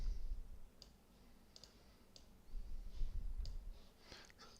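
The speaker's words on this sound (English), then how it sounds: "Okay, now let's cut and let's take 6." Game cards from the Machina Arcana board game are cut and handled at close range, giving a few light, sharp clicks and soft shuffling snaps over quiet breathing.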